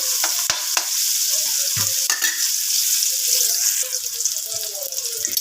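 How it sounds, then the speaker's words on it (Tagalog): Chicken sautéing in a pan, a bright steady sizzle with a few sharp knocks and scrapes of stirring near the start and faint clatter later on. "igigisa muna natin guys ang ating chicken"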